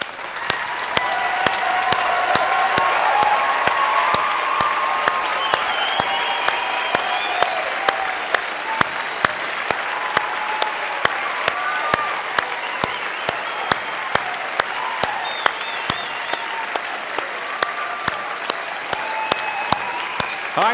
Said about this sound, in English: give them an applause that they can feel for the sacrifice that they've made